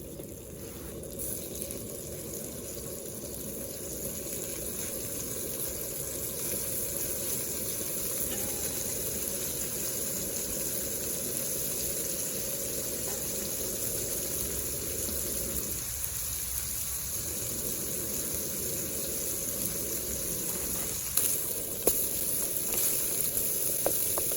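A tuna steak fries in a pan with butter, giving a steady quiet sizzle close by that runs unbroken with a few faint clinks near the end, and no one speaks.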